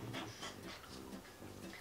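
A dog pants quietly nearby in quick, rhythmic breaths, with a few slightly stronger huffs among the steady panting.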